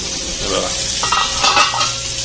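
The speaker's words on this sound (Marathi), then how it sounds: "बारीक गॅसवरच आपण बघू आता पलटी मारताना तुम्हाला दाखवतो त्या शिजतात एका साईडने" Big prawns frying in a pan over a low flame, a close continuous sizzle broken by soft scraping and clinks as they are turned over.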